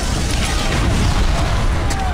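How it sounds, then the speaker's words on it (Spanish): A heavy explosion effect aboard an aircraft carrier, a loud deep rumbling boom that rolls on steadily for a couple of seconds with dense low-end roar. "Una tercera explosión le lanzó por los aires."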